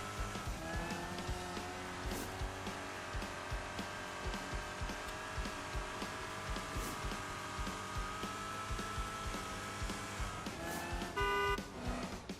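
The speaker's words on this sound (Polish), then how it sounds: "Wtedy nasze autko przyspiesza." A Mario Kart Live: Home Circuit remote-controlled toy kart speeds up, a continuous buzzing game engine tone with race sounds and short chimes, steady and moderately close, with no talking.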